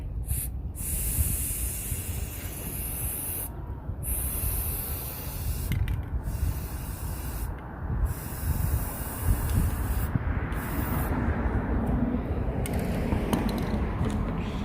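Spray painting inside a van during a van build, with repeated bursts of close, loud hissing spray separated by short pauses.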